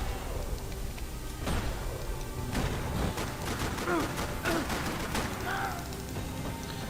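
A Max Payne 3 shootout plays as a dense, busy game soundscape with scattered sharp gunshots and impacts. The shots rise over constant background noise and crashes, and no one speaks.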